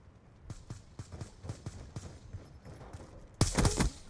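Gunfire from a Call of Duty match heard as a rapid series of short, sharp shots followed by a louder, denser burst, fairly quiet overall with game noise underneath.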